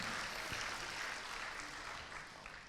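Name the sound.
church congregation applause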